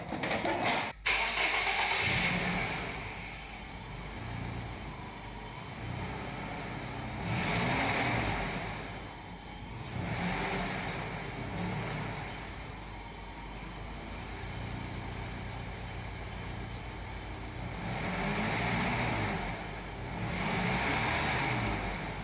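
A repaired car engine starts and then runs steadily at idle, a continuous mid-pitched hum that swells and eases several times over a long stretch, with no speech.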